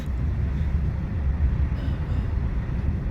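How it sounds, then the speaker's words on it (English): A steady low rumble inside a moving train near the Hungary–Slovakia border along the Danube, a continuous smooth hum and rolling drone without voices. "That's a pretty smooth train ride"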